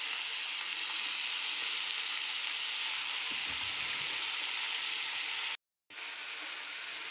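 Spring onion greens fry in a pan with a steady, close, continuous sizzle, a few stirring scrapes partway through and a brief silent gap near the end.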